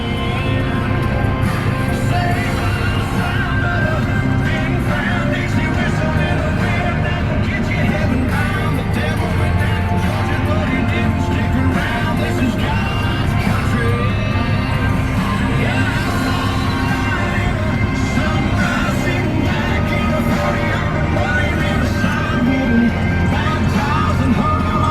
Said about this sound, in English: Back to drilling wheat.